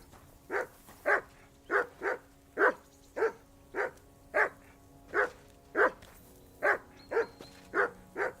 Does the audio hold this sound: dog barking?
yes